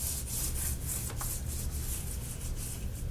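Fingers rub wet microgreen seeds around in a growing tray indoors, giving a steady, close, gritty swishing that runs without pause for the whole stretch, with no talking.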